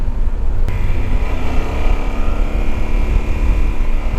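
A Yamaha Super Tenere adventure motorcycle engine pulls hard and loud under acceleration, a dense, continuous roar with wind noise and no voices.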